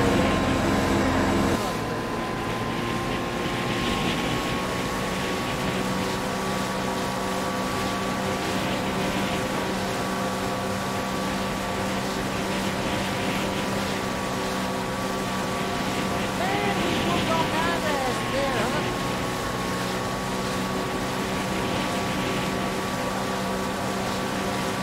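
Boat engine droning steadily over rushing water in the video game Far Cry New Dawn, a loud continuous hum with wind noise, a faint voice speaking briefly near the start.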